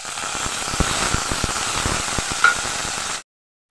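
Ginger garlic paste dropped into hot oil in a wok, already holding whole cumin and chopped onion, gives a steady loud hiss and crackling sizzle with fine popping that cuts off abruptly near the end.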